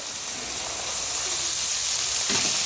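Beans and carrots frying in a pan give a steady, close hiss of sizzling oil that stays even and uninterrupted throughout.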